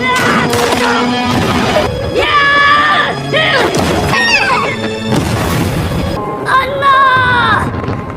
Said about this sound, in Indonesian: akhirnya bom meledak dan menewaskan banyak dari pasukannya